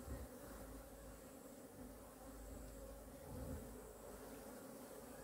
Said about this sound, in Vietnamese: Cái đàn ong phải đông như thế này nhá.